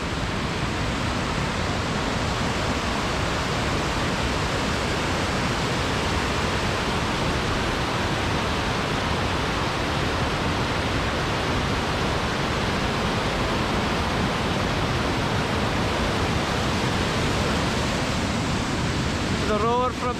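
Loud, steady roar of fast water pouring down a dam spillway at Backwater Dam in Scotland, like whitewater rapids, a dense unbroken rush heard up close for the whole stretch.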